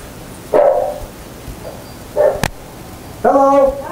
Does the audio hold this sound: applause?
no